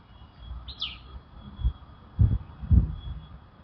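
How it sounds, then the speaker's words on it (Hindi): Birds call outdoors with a short chirping phrase early on and faint high notes later, over quiet ambience broken by a few low thumps. "जैसे पक्षी बोल रहे हैं, आप उनको सुनिए"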